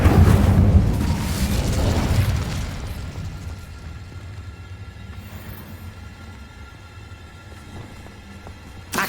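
Fiery magical bursts of the Incendio spell in Hogwarts Legacy, a loud boomy blast at the start with a second swell, then a crackling rumbling tail fading over several seconds.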